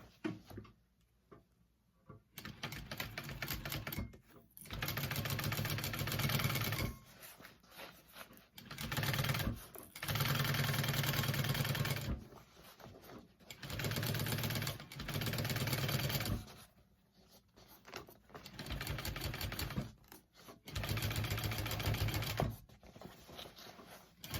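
A sewing machine stitches a teddy bear backpack at a slightly shortened stitch length, running in repeated bursts of a few seconds each with brief pauses between, close and steady.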